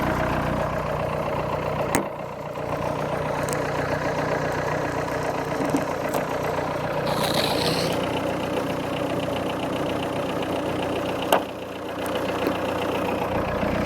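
A diesel engine idles steadily for a long stretch, a low even rumble with a few faint clicks and knocks over it.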